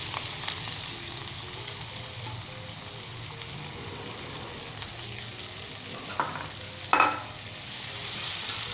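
Onions fry in a pan with green chillies and spices, a soft steady sizzle with a few light clinks and scrapes from stirring.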